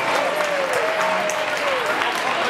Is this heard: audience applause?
yes